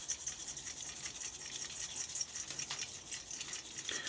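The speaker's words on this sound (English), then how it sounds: "we need to cover them with a very fine layer of compost. So I'm using the trusty colander." Fine compost sifted through a colander over carrot seeds sown in a container, a soft, steady hiss of particles falling and rubbing for several seconds, faint and continuous.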